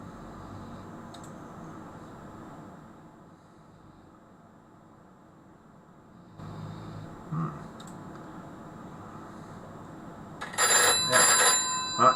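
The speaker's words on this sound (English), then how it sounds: "he's ringing me on another phone now" A faint background hum gives way to a short electronic telephone ring near the end, with some clicking and shuffling nearby.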